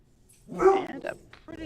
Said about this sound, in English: That's a healthy bark.